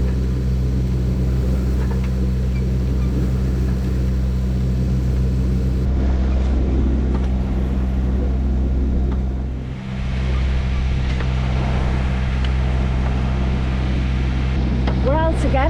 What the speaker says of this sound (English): There's no wind, so we're under engine.